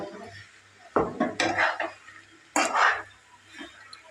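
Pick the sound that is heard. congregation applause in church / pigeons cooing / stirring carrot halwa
stirring carrot halwa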